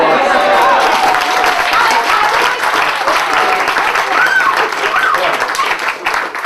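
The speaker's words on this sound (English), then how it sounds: "which I think deserves some kind of round of applause." Wedding guests break into steady, loud applause that fills the whole stretch, dense clapping with a few cheers and crowd noise mixed in, close and continuous throughout.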